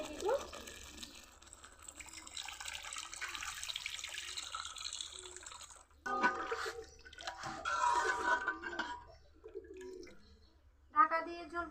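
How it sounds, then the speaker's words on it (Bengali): Water poured into a pan of fish curry cooking with coriander paste, a soft splashing, trickling pour in short bursts, faint and close, with a voice speaking in between. "এখন জল দিয়ে দিব।"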